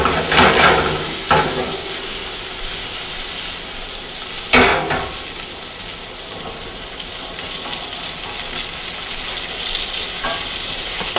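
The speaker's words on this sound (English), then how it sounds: "That's the tomatoes popping." Tomatoes sizzle and pop in a pan for spaghetti sauce, a loud continuous crackling fry with sharp bursts of spattering and stirring scrapes throughout.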